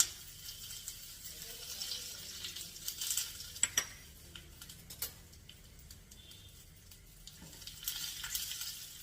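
Dried red chillies and curry leaves tempered in very hot oil for a mango pulissery: a faint, steady sizzle with occasional light spoon clicks as the pan is stirred.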